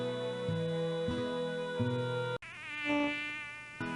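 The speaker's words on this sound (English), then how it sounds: "We can hardly sleep at night with all these mosquitoes buzzing" Mosquitoes in the video game Oregon Trail II whine in a steady, high, droning buzz that shifts in pitch partway through, close and continuous.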